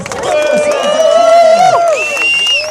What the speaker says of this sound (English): give yourselves a London to Brighton cheer